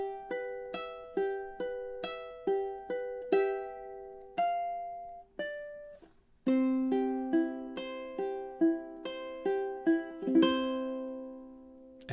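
Fingerstyle ukulele plays the closing four bars of Spanish Romance, with plucked arpeggiated notes in a steady rhythm that slows into held notes, then a brief pause and a final strummed major section. Played alone and close.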